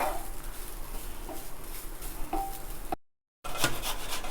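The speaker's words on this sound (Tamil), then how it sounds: "ஆப்பிள் துருவுறேன்" Two apples rubbed across the large holes of a grater make close, repeated scraping strokes, with a brief dropout to silence near the end.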